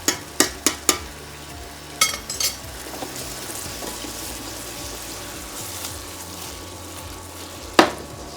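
Papads simmering slowly in a millet soup, with a steady soft bubbling and sizzling texture throughout and a few sharp utensil clinks against the pot near the start and once near the end.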